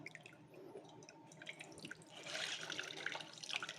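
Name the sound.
water dripping while squeezing grated cassava by hand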